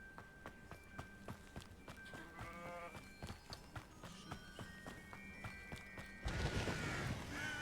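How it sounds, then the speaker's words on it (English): Sheep bleating repeatedly in the video game Hogwarts Legacy, short wavering calls over game music and footsteps, ending with a louder burst of spell effects. "What happens if you kill the sheep?"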